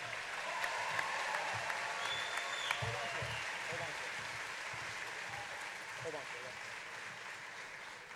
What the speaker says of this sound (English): Let's have a round of applause for all of our winners.